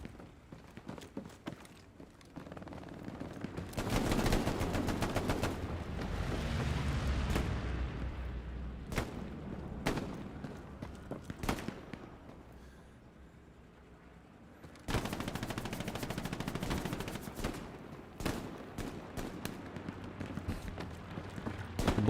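Bursts of machine gun fire in Hell Let Loose, a World War II shooter, with loud sustained volleys, sharp single shots and a brief lull before another heavy stretch of gunfire close by.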